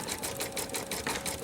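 An embroidery sewing machine stitches a quilted mug rug, making a fast, even, rattling whir of needle strokes close by with a slight pulsing rhythm.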